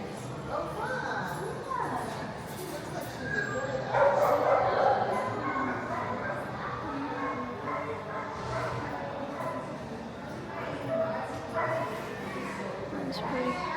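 Dogs up for adoption at a pet adoption center give scattered barks, yips and a whimper at moderate distance, with people talking throughout and steady background noise.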